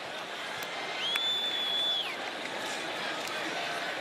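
Crowd at a Florida State home football game against Syracuse buzzing after a catch, a broad murmuring swell that rises briefly, with a thin whistle-like tone cutting through the middle.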